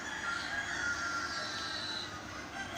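On a chicken farm in Al Baha, Saudi Arabia, chickens cluck and a rooster crows close by, all under a continuous background hiss.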